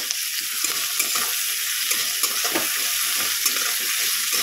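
Washed meat fries in hot oil with bay leaf and spices, giving off a loud, steady sizzle up close, with intermittent crackles and stirring.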